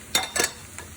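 Chunky cut mushrooms, about eight ounces, dropped into a hot pan, two quick bursts of sizzling clatter followed by a fainter third hiss.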